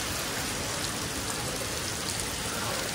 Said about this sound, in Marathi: कोकण खूप छान दिसतं आणि खूप जोरात पाऊस पडतो